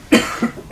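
Two quick, harsh coughs close to the listener, separated by a brief pause with a faint throaty sound between them.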